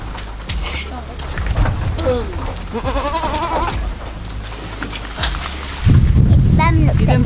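Goats on a small farm in Krabi, Thailand, bleat repeatedly and close by as they are fed and petted, with people talking over the bleats.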